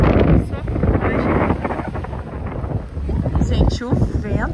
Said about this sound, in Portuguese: Tá ventando muito. Não sei como vai ficar esse áudio.